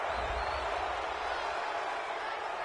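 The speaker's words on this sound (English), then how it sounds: "Well, this crowd does not like that call." A stadium crowd in a football video game roars in a steady, dense wash of noise reacting to a penalty call, heard alone without commentary.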